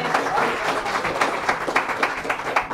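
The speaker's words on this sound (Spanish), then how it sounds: "Dale ese aplauso" Congregation at a Spanish-language church sermon breaks into dense, sustained applause lasting a few seconds, mixed with faint cheers and crowd noise, fairly close and steady.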